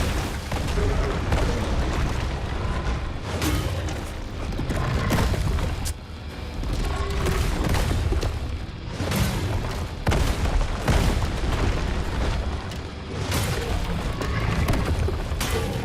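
Game combat with repeated heavy booms and bursts of gunfire, loud and dense, recurring in waves with brief lulls in between, with no voices.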